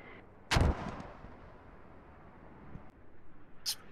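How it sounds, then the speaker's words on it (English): Mortar fire in the tactical shooter Squad: one heavy, loud boom with a long rumbling tail, then a fainter distant thud and a sharp crack near the end, over steady background noise. "Some mortars coming."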